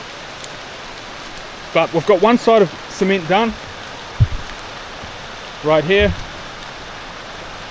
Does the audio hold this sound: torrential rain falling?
yes